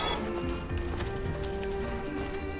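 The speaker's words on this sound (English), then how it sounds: "why did I hear footsteps on the right side?" Footsteps in Dark Souls, a dull repeated stepping over a steady game music and ambient bed, the individual steps soft and partly buried.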